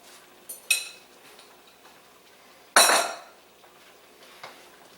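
Ropa vieja ingredients, shredded meat with jalapenos, get mixed in a pot: a utensil clinks sharply against the pot twice, then quieter scraping and soft taps follow in a close, otherwise quiet kitchen.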